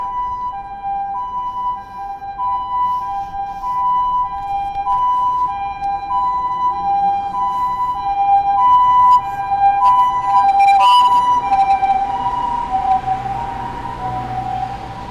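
A loud, continuous ambulance siren in Japan wailing with a steady tone, close by, with traffic noise rumbling underneath and a brief clatter near the end.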